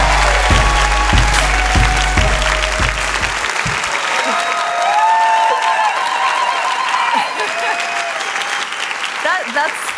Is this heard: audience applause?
yes